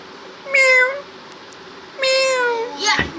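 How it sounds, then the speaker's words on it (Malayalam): A cat meowing nearby, two clear drawn-out meows about a second apart in a quiet room, followed by a short sharper call and a brief bump at the end. "പൂച്ച പൂച്ച വന്നിട്ടാ സേലു"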